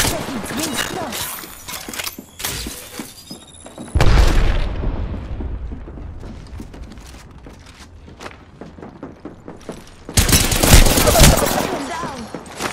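Video game gunfire crackles in rapid bursts, with heavy booming impacts and footsteps, loud and close, and a voice talking underneath.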